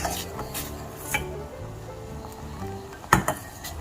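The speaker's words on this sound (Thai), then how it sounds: "เราก็นำมาตั้งไฟแล้วก็ คนจนกระทั่ง วุ้นละลายหมดนะคะ" Blue pea agar jelly stirred in a pot over heat, giving soft, irregular scraping and faint clinks of utensil against the pot, with one sharper metallic knock near the end; no talking.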